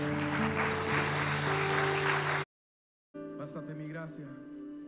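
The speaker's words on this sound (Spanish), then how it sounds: "Denle un aplauso a Cristo." A church congregation claps and cheers in a dense, sustained burst, with music and voices mixed underneath, breaking off abruptly and then resuming over a speaking voice.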